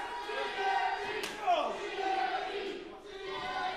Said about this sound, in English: You could hear the folks here on Dottie Block cheering for Gianni